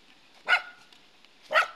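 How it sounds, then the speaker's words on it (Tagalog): A dog barks twice about a second apart, two short, sharp, moderately distant barks with quiet between them. "May aso."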